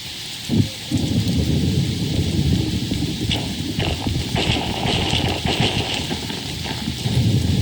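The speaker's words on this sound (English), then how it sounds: "That was a dramatic lightning strike." Thunder from a lightning strike rumbles through steady rain, a low rolling boom over the hiss of falling water, with scattered sharper cracks and crackles.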